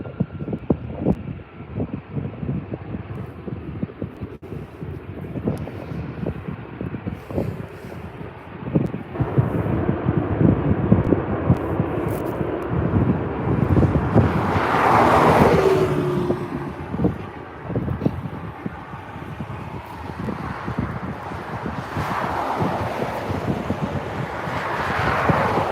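Airliner touching down firmly on runway 24R at LAX, heard from outdoors in wind: a steady engine roar and rumble that swells midway and then eases as the jet rolls out along the runway.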